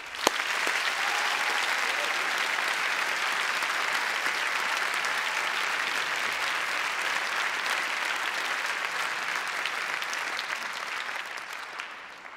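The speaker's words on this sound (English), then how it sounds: "can we have a huge round of applause for the Peter Saby Foundation, Arts Council England, and Rayburn Tours" A large audience at a grand final gives a long, steady, loud round of applause that holds for about twelve seconds before tapering slightly at the end.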